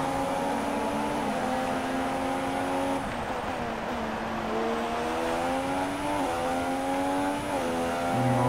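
Formula 1 cars at the 2016 German Grand Prix scream past continuously, high-pitched engines rising and shifting through gears, loud and overlapping with no speech.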